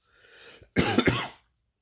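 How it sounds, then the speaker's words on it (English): A single harsh cough bursts out close by, preceded by a soft breathy sound, then silence. "With a cough here and a cough there."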